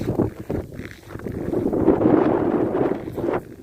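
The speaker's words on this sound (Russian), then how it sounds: "Сегодня сильный северный ветер." Strong north wind on a frigid day with gusts up to 32 m/s, roaring and buffeting the microphone in a steady rush that swells and fades, loud and close throughout.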